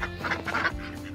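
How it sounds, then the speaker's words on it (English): Ducks and geese crowd around while being fed bugs, mealworms and leftover chips, giving a close, steady stretch of overlapping quacks and honks with no talking. "just down here feeding the ducks"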